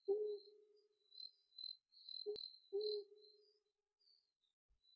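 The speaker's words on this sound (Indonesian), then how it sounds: "mendengar suara jangkrik dan kadang suara hewan yang tidak dikenal dari dalam hutan" Crickets chirp in a forest at night in a faint, steady high trill, broken by a few louder low hooting calls from an unidentified animal. No one speaks.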